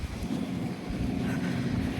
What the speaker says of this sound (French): Ouh, le vent.